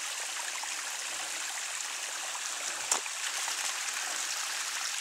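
Stream water flows steadily at Mohican State Park, a close, continuous rushing burble with one brief splash near the middle and no voices over it.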